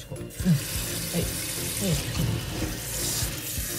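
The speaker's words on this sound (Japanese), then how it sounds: "シャワー出してもらっていい？" Shower water runs steadily from a tap while a dirty rescued kitten is washed, a constant hiss with light splashes and soft voices speaking nearby.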